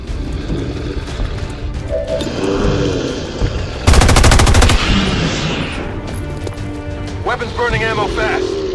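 Automatic weapons fire in XCOM 2: War of the Chosen, with a dense, loud burst in the middle amid game sounds and voices talking.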